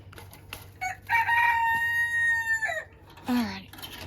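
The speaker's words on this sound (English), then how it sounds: "There's my pretty rooster." A pet rooster on a small farm crows once, clear and close, during morning feeding, and there is faint background noise before and after the call.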